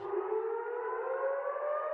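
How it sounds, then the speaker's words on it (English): A civil defense warning siren in Bethlehem, West Bank, holds a steady, slowly rising wail, loud and continuous with no voices. "warning sirens echoing through Bethlehem."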